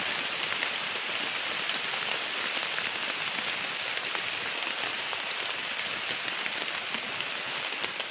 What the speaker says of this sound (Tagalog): Lakas na yung ulan, tol.